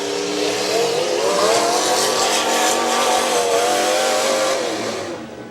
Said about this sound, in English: Man, listen to the motor in that.